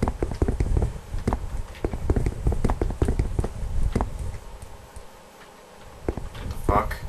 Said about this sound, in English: That's horse.